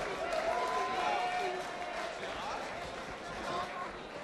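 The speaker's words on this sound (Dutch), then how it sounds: "Geef ze nog een applaus" A crowd at a carnival-season song contest finale applauds in a broad, sustained wash of clapping and cheering noise, while a voice talks loudly over it.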